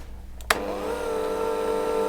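An electric mixer starts with a click and settles into a steady humming whir at slow speed, mixing speculaas spice into bundt cake batter, the motor tone rising slightly then holding constant.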